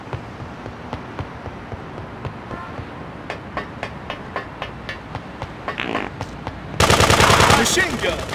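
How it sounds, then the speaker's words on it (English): Machine gun fire in the GTA 2 video game: a steady run of evenly spaced single shots, then a dense, louder burst near the end, heard alone without talk. "machine gun."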